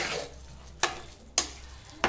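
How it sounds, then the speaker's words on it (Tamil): Murungai keerai (drumstick leaf) rice stirred in a pot, a soft scraping swish followed by a few sharp, close scrapes of the spoon against the pot, with no voices. "இப்போ இதை கலந்துக்கலாம்."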